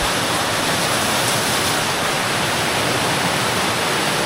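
Waterfall inside a cave in Thailand, a steady, loud broadband roar of falling water that fills the space evenly without pause, close by and alone with no voices.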